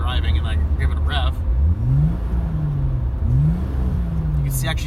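An Alfa Romeo Milano engine revs up and falls back several times while driving, rising and sinking pitch sweeps over a steady low running drone, with a voice talking over parts of it.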